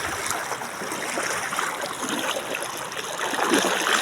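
Cold, clear stream water from a farm area rushes and trickles steadily right up close, a continuous broadband wash with no voices over it.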